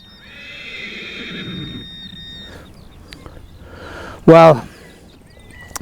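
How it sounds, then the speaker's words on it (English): A horse near a field where someone is metal detecting lets out one loud, close whinny after a stretch of quieter shuffling, while someone talks. "This horse is going a bit."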